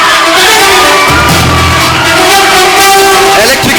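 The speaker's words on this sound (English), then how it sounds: "so please give him a big round of applause" An audience at an educational institution event cheers and applauds a guest being introduced, a loud, saturated roar of crowd noise with whoops and shouts throughout, and a brief low rumble partway through.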